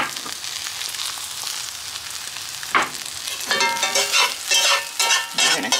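Eggs seasoned with salt and pepper are stirred and scrambled in a pan, with a steady close sizzle under repeated scraping strokes that grow busier toward the end; no one speaks.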